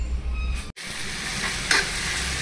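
An Indian tadka of cumin in a little oil sizzles and crackles steadily in a pan, close by, while urad chana dal is being cooked, with a soft stir or clatter partway through.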